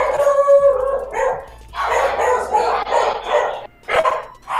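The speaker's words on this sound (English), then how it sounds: "That's all I hear is just dog." A dog in Minecraft Pixelmon barks and howls in loud close bursts, several calls separated by short gaps, with a drawn-out yelp near the start.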